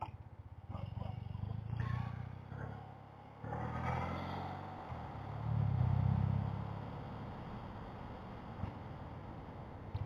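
A motorcycle engine rumbles low and steady on an open ride, swelling briefly as the throttle opens, with heavy wind buffeting over it and someone talking throughout.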